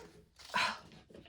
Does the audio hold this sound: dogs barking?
yes